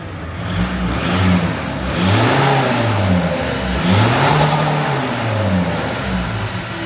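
A VW Golf Mk5 diesel on its stock exhaust revs up and down several times, each rise a swelling mid-pitched drone, close by and fairly loud throughout.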